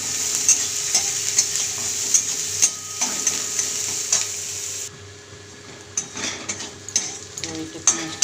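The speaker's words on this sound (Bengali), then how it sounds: "কালো জিরেটাকে ভেজে নেবো এর সঙ্গে" Onion and black cumin seeds fry in hot oil for a kochu shak dish with prawn and hilsa, a close, steady sizzle with scattered stirring clinks that thins and gets more clattery halfway through.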